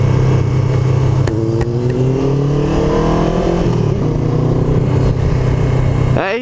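Loud Honda CBR 500R motorcycle engine accelerating hard at full throttle, rising in pitch through several gear changes with brief dips between shifts, close by over wind noise during a top speed run.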